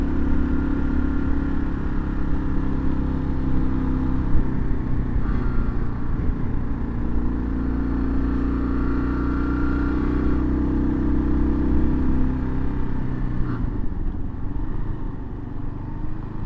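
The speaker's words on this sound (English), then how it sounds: "here comes the car" A steady car engine drone rumbles throughout, swelling slightly as the car draws nearer on a mountain road, then easing toward the end; no voices.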